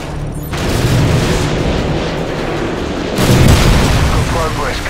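Missile strikes in Call of Duty Modern Warfare 2 land as heavy booming explosions, a loud sustained blast followed by a second surge of rumbling detonation, close and dense.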